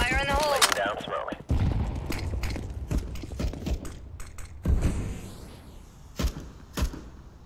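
A decoy grenade in CS:GO Wingman fakes gunfire with scattered sharp pops and cracks, spaced irregularly and moderately loud, amid footsteps and other game noise.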